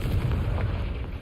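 A Confringo fire spell explodes in Hogwarts Legacy as one loud, booming blast with a rumbling low-end burst that holds steady over its short length.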